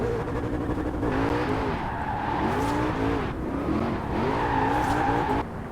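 Car drifting in Forza Horizon 4, played on a Logitech G920 wheel, with a steady engine drone and repeated wavering tire squeals sliding up and down through long slides, loud and continuous throughout.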